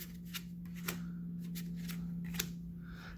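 Poker cards being dealt, one burned and three flipped onto the table: a few soft, crisp snaps and slides spaced over a few seconds above a steady low hum, with no talking.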